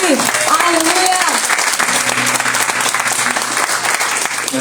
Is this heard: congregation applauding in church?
yes